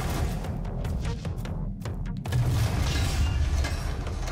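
A heavy explosion in the video game DOOM, a deep booming rumble that swells and lingers with crackling debris over a dense low-frequency roar.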